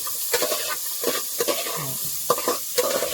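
Kerala village-style okra curry with green chilli and garlic stirred in a hot pan, steady sizzling frying under rhythmic scraping strokes of a spoon, close and fairly loud.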